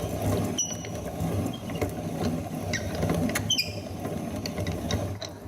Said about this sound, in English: now I'm gonna put them through an old-fashioned grinder. And these are 2 millstones, and the flour will come out here as I grind it